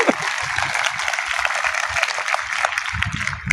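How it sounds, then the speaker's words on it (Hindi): Audience clapping at a school performance in Itarsi, Madhya Pradesh, a dense, steady wash of many hands filling the whole stretch at even loudness with no voices over it. "ताली बजा सकते जब भी आपको अच्छा लगे"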